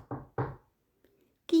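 Two sharp knocks on a wooden door in a children's fairy tale, quick and close together, followed by quiet and a brief vocal sound at the end.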